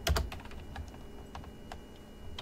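Rapid keystrokes on a computer keyboard as a terminal command is entered, a run of close, light clicks and taps with no talking.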